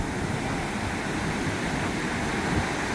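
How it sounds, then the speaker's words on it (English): Large surf waves breaking off Bali, a steady, loud wash of churning water and wind rolling on continuously without a pause. "You see these huge Bali waves."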